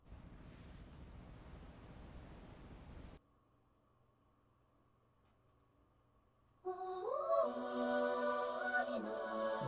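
Ocean waves in the visual novel game Umineko no Naku Koro ni Chiru wash and rumble steadily for about three seconds, then give way to a faint low hum before music enters.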